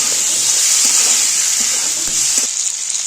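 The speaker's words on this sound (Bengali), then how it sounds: "তো চিকেনটা আমার ভাজা হয়ে গেছে, হালকা করে ভেজে নিয়েছি, তো নুন হলুদ ছাড়াই" Chicken pieces sizzle lightly in oil in a kadai, with no salt or turmeric added, giving a steady bright crackle and hiss with occasional soft stirring clicks throughout.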